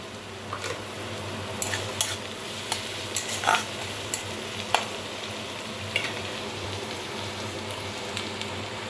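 Chopped green chillies fry in a pan while a Bengali-style brinjal khagina is cooked, giving a steady close sizzle with scattered sharp clicks and pops of a spoon stirring against the pan, no voices.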